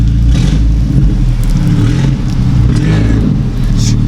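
Fully straight-piped VW GTI with a 3-inch downpipe, its exhaust revving loud and close in a deep, continuous roar with slight rises and dips.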